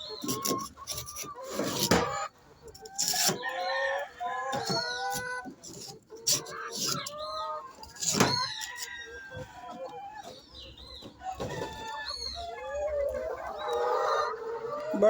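On a small chicken farm, chickens cluck and roosters crow repeatedly nearby, several loud crows rising over a busy, overlapping mix of clucks and squawks throughout.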